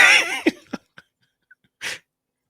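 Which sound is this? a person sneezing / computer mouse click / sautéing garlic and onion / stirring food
a person sneezing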